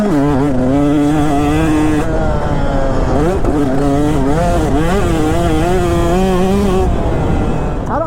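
Dirt bike engine revving hard in a higher gear on a run at a jump, loud and close throughout, its pitch rising and falling in repeated surges as the throttle opens and eases.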